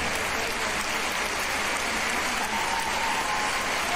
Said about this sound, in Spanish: un gran aplauso para ellos dos